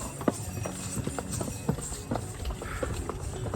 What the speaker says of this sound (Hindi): यहाँ पे घोड़े भी आपके साथ चलते हैं।